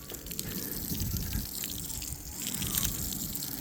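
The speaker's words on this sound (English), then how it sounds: "we have the water hose here. First thing I'm gonna do is start rinsing from the top" A garden water hose rinses a car, a steady hiss and patter of spray hitting the waxed bodywork at close range. It is fairly quiet, with no one talking.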